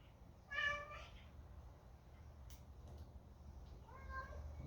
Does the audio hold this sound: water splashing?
no